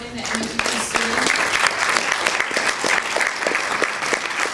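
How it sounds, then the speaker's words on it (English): Sustained audience applause fills a student union teach-in hall, dense and steady clapping from a crowd, with a voice speaking over the start of it. "A big round of applause for Janan Najib."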